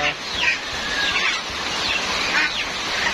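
Black mottled hens cluck and call in short repeated bursts over a steady background hum, fairly close by.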